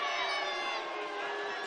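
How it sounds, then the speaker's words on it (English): Basketball arena crowd voicing disapproval at an offensive foul call, a brief loud burst of shouting and jeering voices. "The crowd doesn't like it"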